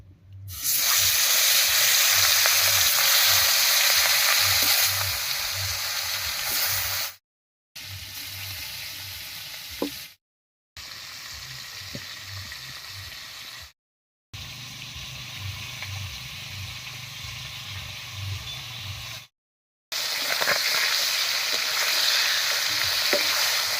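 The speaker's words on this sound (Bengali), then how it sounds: "তেল গরম হয়ে গেছে এবারে মাছগুলো ভেজে নিচ্ছি" Loud, steady sizzling of ritha fish frying in hot mustard oil, continuing through several cuts with brief silent gaps between sections.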